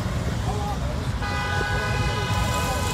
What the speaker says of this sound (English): We still have vehicles moving past the toll plaza.